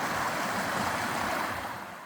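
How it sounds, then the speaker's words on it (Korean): A waterfall pours down a mountainside beside a national forest trail in Korea's Baekdudaegan range, giving a steady, close rushing roar of water that eases slightly toward the end. "산에서 쏟아지는 폭포를 보니"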